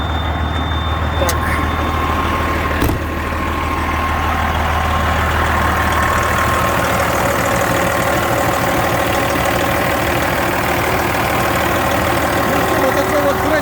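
A truck engine idles steadily at close range, a constant low rumble running the full length with little change, apart from a brief knock near the start.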